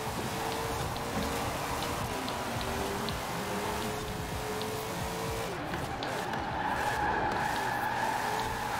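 A Ford GT40 drifting in Forza Horizon 4, a steady engine drone carrying a long sustained tire squeal that rises in pitch toward the end, with someone talking faintly underneath.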